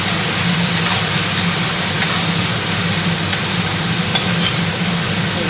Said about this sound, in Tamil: நல்லா வதக்கணும். இது கல் சட்டி.